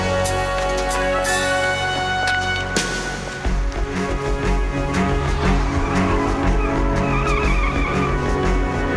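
Car chase with a dark purple Jaguar, tires screeching and skidding loudly in long squeals over roaring engines, followed by revving and more brief squeals.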